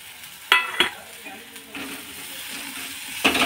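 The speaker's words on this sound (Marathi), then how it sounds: "मिक्स करून घ्यायचं व्यवस्थित मसाल्यामध्ये हे" Chopped spiny gourd (karatule) stirred into spiced masala in a pan, with a soft continuous sizzle and a few sharp scraping strokes of the spoon at the start and end, close and alone.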